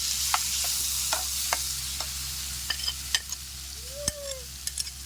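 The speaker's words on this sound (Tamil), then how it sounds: "இங்கே பாருங்கள் நெய்யில் வெங்காயம் நல்லா வதங்கிடுச்சு" Onions and masala frying in ghee for a ghee podi chicken dish, stirred with a utensil: a steady close sizzle with repeated scraping stir strokes and a few sharp clinks, no voices.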